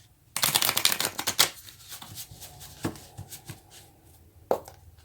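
Tarot cards are shuffled by hand in a quick burst of papery riffles and flicks, followed by a few scattered softer card slaps and taps, close and quiet.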